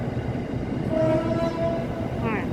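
An electric train on the Red Line arrives at a station, rumbling steadily nearby, with a faint sustained horn tone partway through and a brief whistle near the end.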